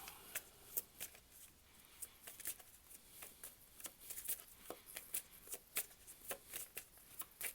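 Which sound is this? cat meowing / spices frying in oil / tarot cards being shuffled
tarot cards being shuffled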